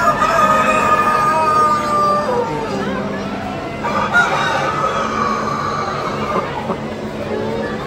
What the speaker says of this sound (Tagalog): Itong manok na to, lalaki niya oh.